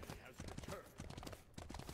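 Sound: Lancelot's horse hooves in SMITE video game

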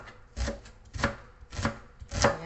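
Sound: chopping onions with a knife

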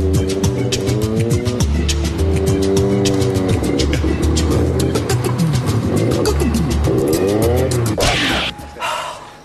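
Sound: car driving off

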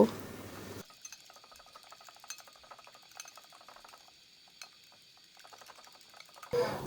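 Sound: beating an egg with a fork in a bowl

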